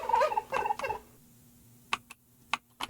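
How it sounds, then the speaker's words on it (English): Turkey gobbling from the Mo' Creatures mod in Minecraft, a burst of rattling gobbles in the first second followed by a few short, sharp clucks after a pause, clear and close with no talk. "Now right here is a turkey."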